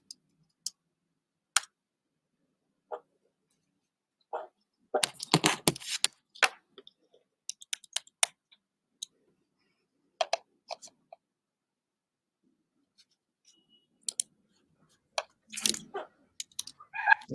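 Sparse, faint clicks of typing on a computer keyboard during a live online show, coming in short scattered bursts separated by near silence, with no talk.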